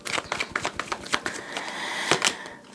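Tarot cards riffle and flick in a quick series of crisp snaps, then slide and are drawn with softer rustles, close and fairly quiet.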